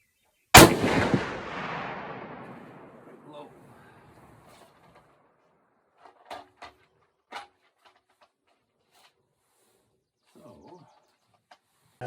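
A single loud rifle shot goes off nearby, a 25-06 or 6.5 Rem Mag rifle with a Pac-Nor barrel firing factory ammunition. Its sharp crack rolls away into a long echo, followed by faint scattered sounds in quiet surroundings.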